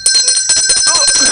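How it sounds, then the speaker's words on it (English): A bell rings close and loud in quick repeated strikes, its bright sustained tones layered over one another for about a second and a half with no talk. "I need to ring bell for you."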